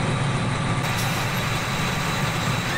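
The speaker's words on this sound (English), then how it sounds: "If I can ever get this tractor to shut off." Tractor engine idling in the Farming Simulator 17 video game, a steady low, rumbling drone with an even mechanical hum holding constant throughout.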